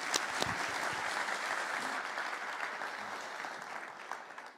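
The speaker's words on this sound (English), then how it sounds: "See you in one more round of applause" Conference audience at the KosICT 2023 opening in Kosovo applauding, a dense steady round of clapping from a large hall crowd that fades slightly toward the end.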